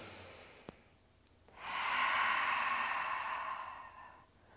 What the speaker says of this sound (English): think nice deep breaths in here.